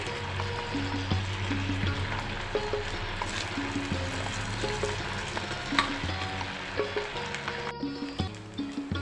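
Semolina and potato balls frying in hot oil give a dense, steady bubbling sizzle, close and fairly loud, with light clinks of a utensil and a faint tonal hum underneath.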